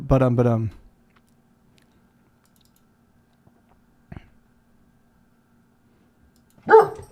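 A dog barks in short bursts indoors, one sharp bark near the start and another near the end, with a brief click-like sound between and long quiet stretches; a voice speaks briefly at the start.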